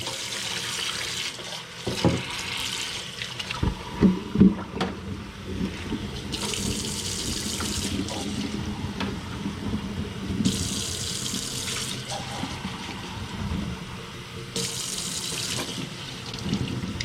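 A running tap rinses soap off a hedgehog's quills during a bath, a steady close splashing stream of water that swells and eases as the animal is moved under it, with no talk.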